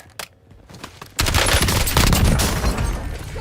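Gunfire in the Warzone video game: after a couple of faint early shots, a dense, loud burst of automatic fire starts abruptly and keeps going without a break.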